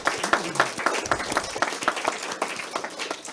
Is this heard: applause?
yes